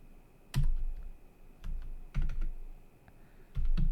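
Command typed at a computer keyboard while configuring a Raspberry Pi smart car kit: a few scattered sharp key clicks, close and fairly quiet, with short pauses between keystroke bursts and no talking.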